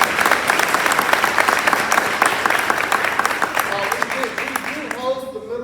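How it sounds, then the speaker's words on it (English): Applause for middle school champions at a board of education meeting: a roomful of people clapping steadily and fairly loudly, then fading out as a voice begins speaking near the end. "you give these guys a round of applause"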